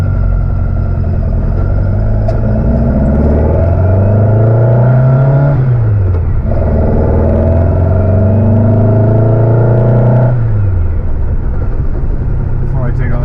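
An air-cooled VW Beetle engine with freshly fitted dual carburetors runs on its first start, a loud, close, steady drone that rises and falls through two slow revs before settling back to idle.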